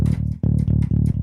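Electric bass moving from a G to an A, a few punchy repeated plucked notes with slightly gritty tone, played up close and alone.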